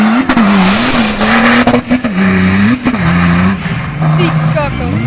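Off-road cars, including a one-tonne car against a three-tonne Mercedes, rev and rise and fall in pitch during an extreme off-road championship in Tisovec, Slovakia, loud and close, with a voice talking over the engines.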